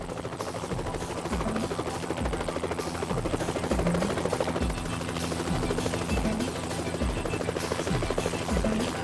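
A helicopter's steady rhythmic rotor thumping with a loud engine whine during a polar bear airlift near Churchill, close and continuous throughout.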